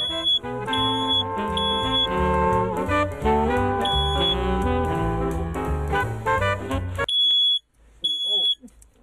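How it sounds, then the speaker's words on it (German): A smoke detector indoors emits a series of loud, shrill, evenly spaced beeps that cut through music and voices, then sounds alone briefly near the end. "Wie kann man denn einen Rauchmelder hier reinholen?"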